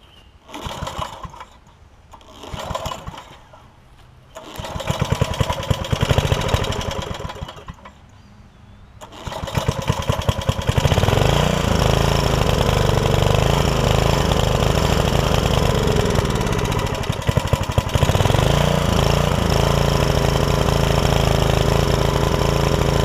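A 5hp Briggs and Stratton generator engine with a power-losing fault is cranked in several short pull bursts, then catches and runs steadily with a loud, rapid, rattling chatter close by.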